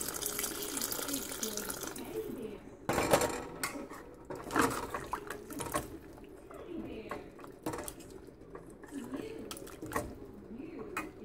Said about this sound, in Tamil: இப்போ இந்த பீஃப் வேக தேவும் அளவு தண்ணி விட்டு போங்க.